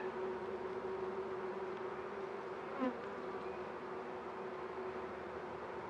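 Honey bees buzz steadily around an open beehive during a hive inspection, a constant droning hum with a single brief louder pass from a bee close by.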